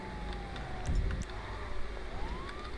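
Police sirens in GTA 5 during a chase, a rising and falling wail sweeping across the clip at moderate distance over a steady engine and traffic rumble, with a brief thump near the one-second mark.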